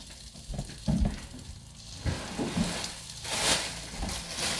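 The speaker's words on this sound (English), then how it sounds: "we're going to stick this in here in the frying pan, the chicken and the bacon" Chicken and bacon frying in a pan, a soft steady sizzle with clattering bumps and stirring noises, fairly close and moderately loud, brightening into a hissier fry toward the end.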